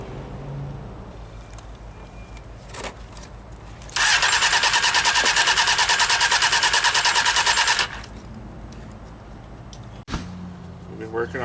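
A junkyard Honda motorcycle engine cranks with the starter in a loud, rapid, continuous whirring burst lasting several seconds, cuts off, and is followed by a sharp click, with people talking before and after.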